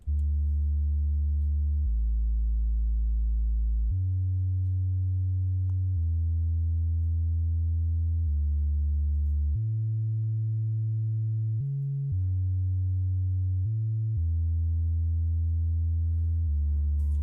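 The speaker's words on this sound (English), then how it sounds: "under the bass category, and we are using a deep sub for this remake, and it basically sounds like this" A deep sub-bass synth plays a slow sequence of long sustained low notes, smooth and pure, changing pitch every couple of seconds with no other sounds.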